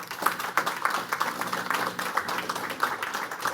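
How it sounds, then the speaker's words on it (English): A room of people at a community college board of governors meeting applauds, steady dense clapping that holds at an even level throughout, heard from within the crowd. "if you could join me in a round of applause"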